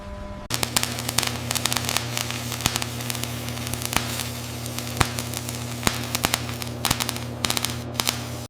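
Electric flash welding fuses the tail of one steel coil to the head of the next in a giant coil factory, a loud steady crackling buzz over deep electrical hum with sharp snapping pops throughout.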